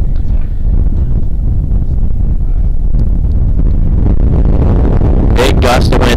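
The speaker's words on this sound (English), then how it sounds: "Big gust of wind right now." A big gust of wind roars into the microphone at an outdoor high school baseball game, a loud continuous low rumble, with a few sharp bursts near the end.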